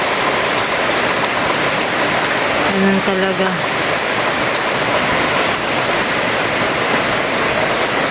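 Heavy rain pours steadily over a house construction site in the provinces, a loud, unbroken wash of noise with a brief spoken remark partway through.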